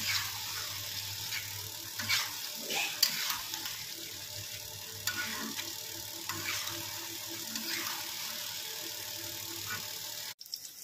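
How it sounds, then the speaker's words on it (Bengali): Sattu parathas frying in a single batch of oil make a steady, faint broadband sizzle with occasional crackles and spatters throughout, cutting off abruptly near the end. "এই যে ছাতুর পরোটা ভাজা চলছে"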